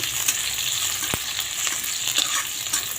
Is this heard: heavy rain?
no